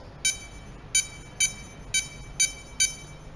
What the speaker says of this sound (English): Touch the panel with a beep.